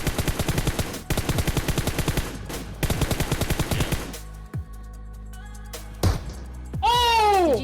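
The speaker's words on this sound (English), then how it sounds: "Do you want to hit shots like this?" Gunfire in the mobile game PUBG Mobile: rapid bursts of automatic shots in quick rhythmic volleys, loud and close, followed by sparser single reports and a rising, warbling game sound effect at the end.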